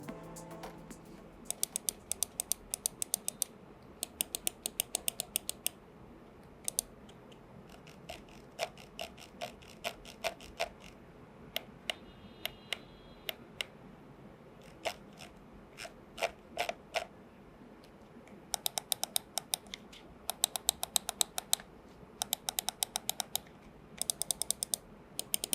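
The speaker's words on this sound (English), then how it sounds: "Here is the sound test of all the buttons and the scroll wheel." ROG Harpe Ace AIM Lab Edition gaming mouse buttons and scroll wheel clicked over and over, crisp close clicks arriving in bursts and scattered single taps with short pauses, no voice present.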